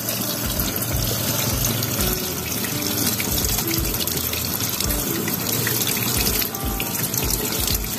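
Water streams steadily out of holes punched in a container during a school pressure experiment, a continuous close splashing and gushing rush with no voices.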